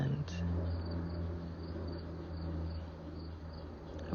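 Faint crickets chirp in a soft, continuous background chorus over a low steady hum, distant and quiet.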